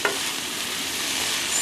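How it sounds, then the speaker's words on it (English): Cabbage sautéing in a pan, a steady, dense hiss of sizzling heard close and alone, continuous and even throughout. "Cabbage is done. You can hear it sizzling."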